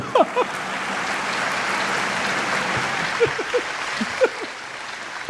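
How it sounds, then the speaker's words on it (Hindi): Audience applause at a Hindi comedy and satire recitation, a steady wash of clapping with a few scattered voices calling out briefly over it. "आपकी तालियां बता रही कि आप व्यंग समझ रहे हैं"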